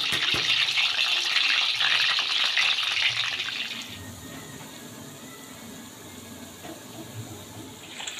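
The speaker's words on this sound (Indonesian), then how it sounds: "langkah selanjutnya yaitu kita bisa langsung goreng" Banana slices for sweet banana chips sizzle in hot oil, a loud, steady hiss that drops to a quieter, bubbling crackle about halfway through.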